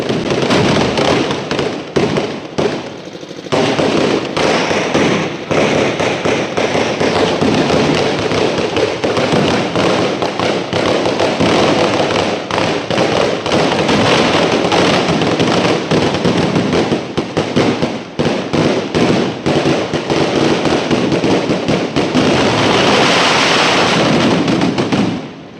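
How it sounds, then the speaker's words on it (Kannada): Firecrackers set off during a Ganesha immersion procession in Turuvekere, a dense, continuous barrage of sharp cracks and pops lasting the whole stretch, loud and close with almost no pause. "ನೋಡಿದ್ರಲ್ಲ ದೇವ್ರುಗಳೇ, ಇದು ಪಟಾಕಿ ಶೋ ಆಗಿತ್ತು"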